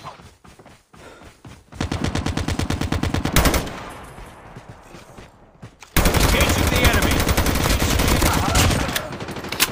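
Rapid automatic gunfire in the Call of Duty video game, loud close bursts of machine-gun fire in long rhythmic strings, broken by short pauses and then a sustained dense volley.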